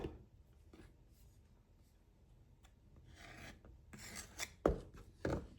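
Flour scraped level across the rim of a measuring cup while baking pumpkin cream cheese strudel muffins: faint soft rasping near the start, then a few louder, sharper scraping strokes toward the end, with no talking.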